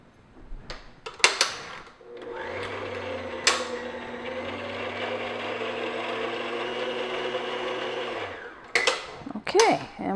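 An electric mixer beats the rest of the flour into vanilla cupcake batter, running as a steady, even motor whir for several seconds, framed by bowl clatter and handling noises before and after.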